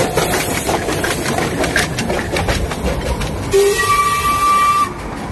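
The Darjeeling Himalayan toy train runs along its narrow-gauge line, a loud, close rumble of engine and rhythmic wheel clatter, with a short horn blast near the end before the noise drops away.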